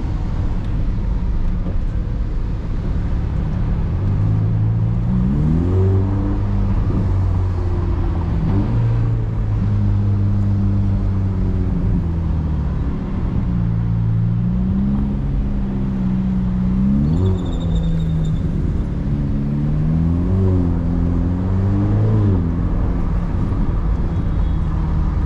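Ferrari Roma engine note rising and falling through repeated gear changes in Dubai, window open, with constant wind and road roar filling the cabin.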